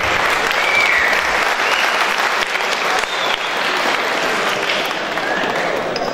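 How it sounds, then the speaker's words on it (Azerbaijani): An audience at a kickboxing event applauds, with dense, sustained clapping from a large crowd that stays loud and steady for several seconds, without any clear voices. "Çox xahiş edirəm, özünüz öz şərəfinizə bir alqış edin."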